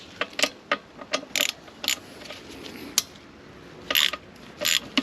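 A ratchet clicks in short bursts while loosening 8 mm bolts on the chain adjuster of a 2015 Kawasaki Ninja 1000 ABS, close and crisp, with pauses between strokes and no talking.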